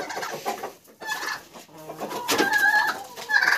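Chickens cluck and squawk in a busy, noisy yard, with a sharper rooster call rising near the end and no talking.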